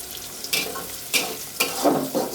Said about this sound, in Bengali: আমি দুপুরে রান্না করতেছি পুঁই শাক ভাজি